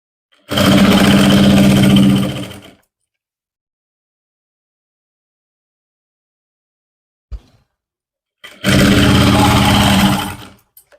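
A sewing machine stitches a folded half-inch trouser hem with long basting stitches, running loudly in two bursts of about two seconds each, separated by silence and a brief click.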